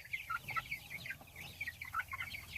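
A chicken on a farm clucks in a quick, irregular series of short calls, close and clear, with no talking.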